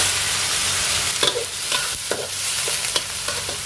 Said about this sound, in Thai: เอาหมูที่เราเตรียมไว้ลงไปผัด